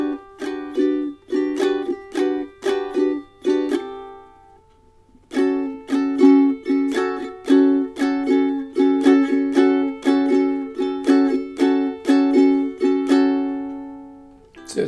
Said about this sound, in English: I am doing some pump strumming where I'm pressing down on the chords